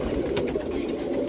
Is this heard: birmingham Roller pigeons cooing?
yes